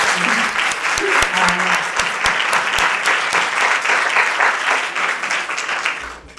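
Audience applause at a literary event of the Festival Borges 2024: loud, dense, sustained clapping from a full room that holds steady for about six seconds, then begins to fade.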